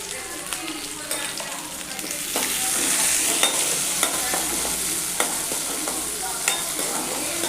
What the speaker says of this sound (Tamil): இதெல்லாம் கருவேப்பிலை வெங்காயம் அப்படியே போட்டு தாளிக்க வேண்டியதான்